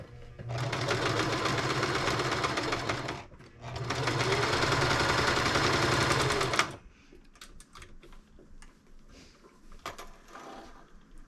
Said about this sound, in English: now I'm just going to sew up the remainder of that bag